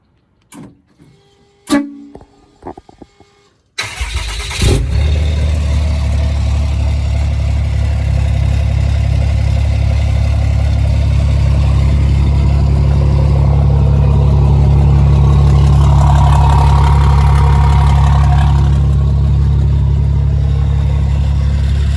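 A 2018 Cummins diesel pickup fitted with a FASS fuel system and a 472 turbo cranks over and settles into a steady, loud, rumbling idle close by, after a few brief clicks and knocks.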